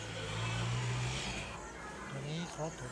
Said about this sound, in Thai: จะใช้รถไถแบบนี้หรือว่าเป็นรถดันดินก็ได้นะครับดันดินให้มันเรียบๆนะ